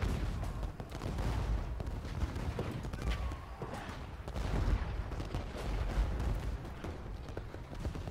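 Artillery bombardment in the Ultimate General: Gettysburg video game, heard as a steady, dense rumble of distant cannon fire and booms rolling continuously without any speech.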